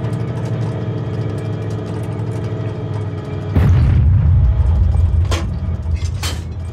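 A tank in ArmA 3 with its engine idling, then struck by a shell, which lands as a sudden loud boom followed by a rumbling roar and two sharp cracks further on.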